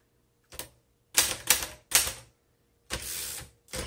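A 1928 Royal 10 antique typewriter typed in short bursts: one clack, then a quick cluster of three sharp strikes, a pause, and a longer mechanical rattle followed by another strike, all close and crisp without speech.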